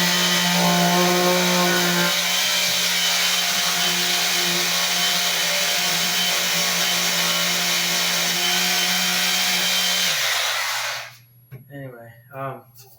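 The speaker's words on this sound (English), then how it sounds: "nothing beats a good old-fashioned square sander" A square sander runs loud and close with a steady, buzzy hum for about ten seconds before it winds down and stops, leaving a short burst of faint talk at the end.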